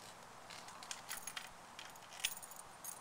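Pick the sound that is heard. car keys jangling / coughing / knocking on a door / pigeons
car keys jangling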